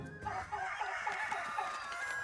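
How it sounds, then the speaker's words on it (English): Hens in the video game Little Goody Two Shoes cluck steadily in an agitated, overlapping chorus, close and continuous with a rooster-like crowing quality. "Careful with the hens now, you hear."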